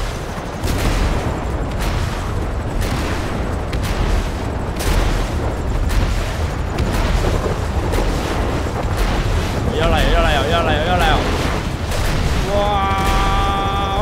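Bombs and missiles explode over and over in a GTA5 tornado mod, a dense, loud barrage of booms and bursts with steady rumble throughout. A speaking voice and a warbling high tone come in near the end.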